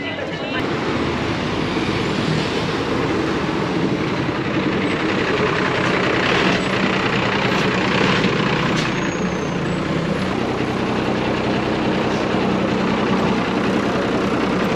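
A city bus in Guatemala runs its engine steadily in a loud, continuous rumble with a hiss of air brakes and roadway noise, while people talk nearby.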